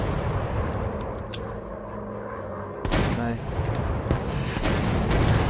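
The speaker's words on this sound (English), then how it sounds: "Somebody's shooting at me." Gunfire and explosive booms from a WW1 fighter plane VR combat game, a dense loud burst starting partway through over a constant engine drone.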